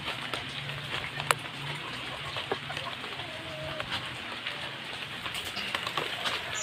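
Steady rain patters on a surface around a chicken yard, a continuous soft hiss with scattered louder drops and a faint bird call in the background.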